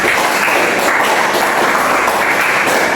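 Steady, dense applause from a group of children fills a classroom training session, continuous and fairly loud with no voices over it.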